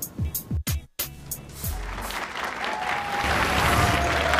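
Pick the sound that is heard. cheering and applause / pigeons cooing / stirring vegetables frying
cheering and applause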